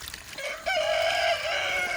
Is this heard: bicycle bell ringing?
no